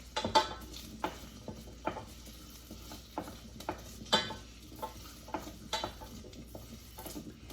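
Potatoes cooking and sticking to the bottom of a pot, stirred with a utensil that scrapes and knocks against the metal in irregular light taps over a faint low hiss, close and fairly quiet.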